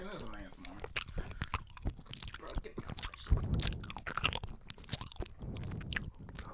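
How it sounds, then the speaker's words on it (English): Someone chews passion fruit mochi close to the microphone. Soft, wet, squishy bites and mastication repeat steadily, and people talk over and between the chewing. "we're eating passion fruit mochi right now"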